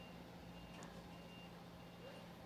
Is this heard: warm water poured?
no